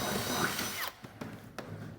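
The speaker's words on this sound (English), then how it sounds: "I'm going to get a rivet in there and pop another one in here." A rivet tool pops a rivet into a metal clad panel on a garden room build: a whirring burst gives way to three sharp, distinct snaps close by, with no talk.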